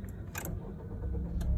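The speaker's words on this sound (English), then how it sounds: "you get a really long crank, like just happened now" A 2016-or-newer Honda with a misfire fault and rodent-damaged wiring cranking over, a short low churning rumble with a couple of brief metallic clicks, faint and close.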